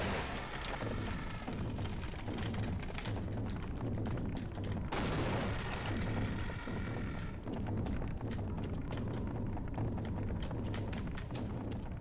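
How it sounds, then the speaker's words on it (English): Gunfire and heavy booming blasts in Half-Life as a charged Gauss cannon fires at Gonarch, dense repeated shots and impacts sounding continuously and loudly throughout, with no talk. "Wait for her to stop, shoot her with a full charge of the Gauss cannon."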